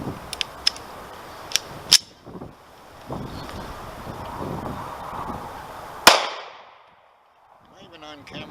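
Remington R51 pistol firing Remington ammo at an outdoor range: several sharp, separate gunshot cracks, one especially loud near the end, with wind buffeting the microphone between shots.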